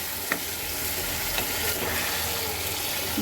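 Chicken curry spice paste sizzles steadily in a pan with water added, a continuous close frying hiss with occasional soft stirring clicks.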